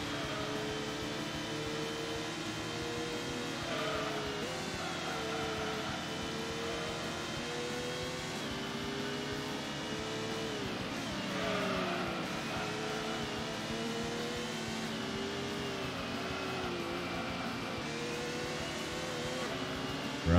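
A race car engine in the Gran Turismo video game holds a steady drone during a Megaspeed Cup race, its pitch rising and dipping with gear changes. The sound is moderately quiet and continuous, with no talk.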